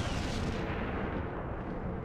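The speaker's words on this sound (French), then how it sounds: "Ça, c'est une explosion digne de ce nom." Massive explosion in the space strategy game Sins of a Solar Empire, a dense continuous roar of booming blasts sustained loudly over two seconds, with no talking.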